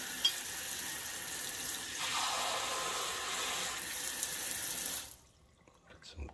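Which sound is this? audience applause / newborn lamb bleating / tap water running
tap water running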